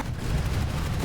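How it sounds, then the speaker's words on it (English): Explosions rumble through a PlanetSide 2 battle as a dense, continuous low roar with no distinct single blasts, loud and steady throughout, with no talk. "Too much explosions from all the things."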